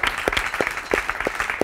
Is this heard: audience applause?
yes